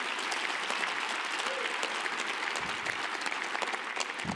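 An audience at the Microsoft Ignite 2015 tech conference gives steady, moderately quiet applause, with many hands clapping in a continuous patter from start to finish.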